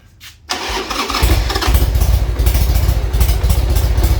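A 1995 Harley-Davidson XLH1200 Sportster cranks briefly, then catches and fires into a loud, lumpy idle with a steady throbbing rumble that continues close by.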